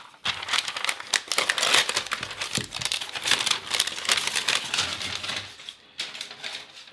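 Protective plastic wrap being peeled off a new iPad Air produces a long run of loud, close crinkling and crackling, continuous and irregular, with a brief pause before a final few rustles.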